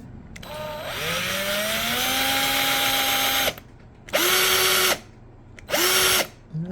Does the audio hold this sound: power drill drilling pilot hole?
yes